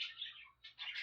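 Pet birds chirp in a quick series of high, thin tweets in two short bursts with a brief pause between, faint and close in a quiet room.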